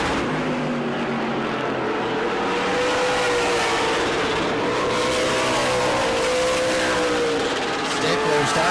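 Florida Modified race cars roaring around the track at New Smyrna, a continuous loud engine drone with rising and falling pitch as cars pass, under steady race commentary.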